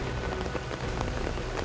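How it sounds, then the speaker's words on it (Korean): Heavy rain pouring down steadily in a Sri Lankan palm grove, a dense continuous hiss of drops striking surfaces close by, with no voices. "소강 상태였던 빗줄기가 또다시 굵어지기 시작했다."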